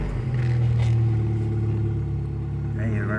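A jeep engine rumbles and revs up as it pulls away, loud and close throughout, with voices speaking over the engine.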